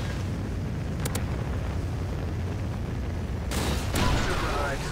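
Trinity rocket strike in Call of Duty Ghosts multiplayer, a dense continuous rumble of distant explosions and gunfire, with sharp cracks and a louder blast surge near the end.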